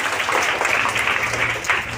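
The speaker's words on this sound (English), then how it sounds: "Give him a big round of applause." A crowd of schoolchildren applauds a student at a school assembly, steady dense clapping that fills the whole stretch at moderate loudness, with no voices over it.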